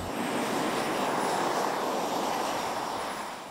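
PTERA, a modular multi-engine research aircraft in flight test, giving a steady, loud engine drone with broad airflow roar that holds evenly and eases slightly at the end.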